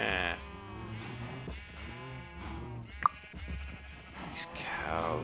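Minecraft sheep bleat repeatedly in wavering, nasal calls, fairly loud and close, with a brief sharp click midway and one more bleat near the end.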